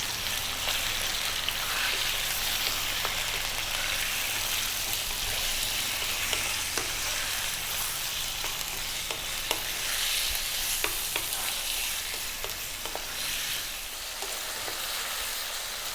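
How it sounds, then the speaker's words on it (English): Lamb pieces frying over medium heat in a pan for a dopiaza curry, a continuous loud crackling sizzle with scattered spatters and scraping as the meat is tossed, no voices. "Above medium heat, we're going to throw this around in the pan for about 5 or 6 minutes."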